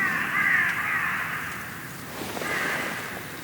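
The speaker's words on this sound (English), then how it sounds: "some crows are calling out in the background" Crows caw in the background in a garden during a lockdown birdwatch, two drawn-out harsh calls, the first louder and the second after a short pause, over constant outdoor ambience.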